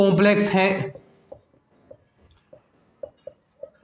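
Chalk or marker strokes on a board during an abstract algebra lesson on groups: a burst of speech first, then quiet, intermittent taps and short scratches spaced about half a second apart.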